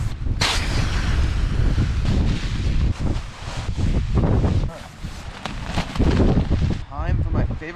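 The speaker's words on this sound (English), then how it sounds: "Wind is chilling this tarp like a wind tunnel flying right through" Strong wind gusts roar and buffet a camping tarp in Alaska, loud and continuous with rumbling flaps and surges, close to the microphone.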